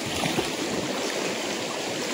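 Water splashes and churns as people play in a river, producing a steady, close rushing wash with small irregular bursts.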